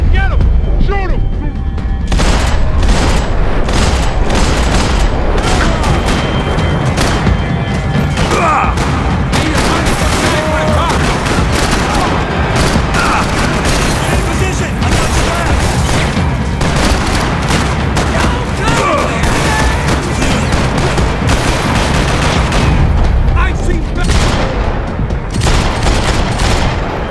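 Max Payne 3 shootout with dense, sustained gunfire: rapid overlapping shots and bursts crackle loudly without pause for the whole stretch, mixed with impacts and booms, while voices shout amid the chaos.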